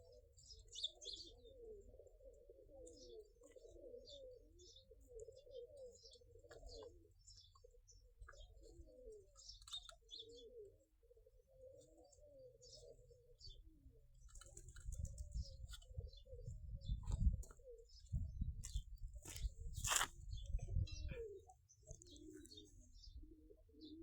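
Pigeons coo and chirp repeatedly while being fed peanuts, with low rumbling coos running throughout and scattered higher chirps, plus shuffling and handling noise growing louder toward the end.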